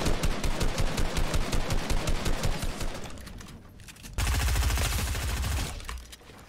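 Rapid bursts of automatic gunfire in the Fortnite video game, a dense volley of close shots that thins out, then a heavier, louder burst of firing before tapering off.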